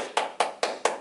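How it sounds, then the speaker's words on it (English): A small group, likely children, claps for themselves after a sing-along song: four evenly spaced, close claps in about a second, each sharp and loud with a short tail. "Give yourselves a big round of applause."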